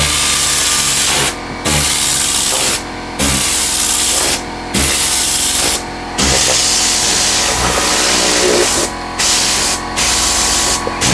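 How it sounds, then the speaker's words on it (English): A Tornador air cleaning tool blasting compressed air over a car seat belt during interior detailing, loud hissing bursts of a few seconds each, separated by short pauses. "all you do, guys, is come back with your Vortex or your Tornador"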